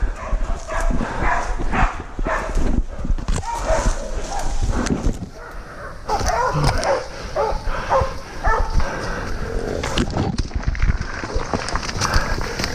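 Hunting dogs barking repeatedly on a mountainside while chasing a wild pig, sharp irregular barks and yips at moderate distance amid rustling movement through brush.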